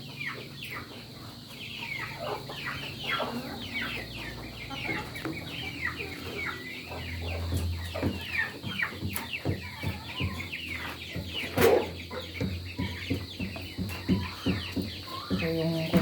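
Rhode Island Red rooster and hens on a farm, clucking and calling continuously at moderate distance, with a sharper loud squawk near the middle and a steady background hum.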